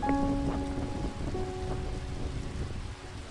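Rain pours steadily at a hilltop viewpoint overlooking the Navi Mumbai airport construction site during a lightning storm, a dense, even patter with a few faint tonal sounds early on and no voices.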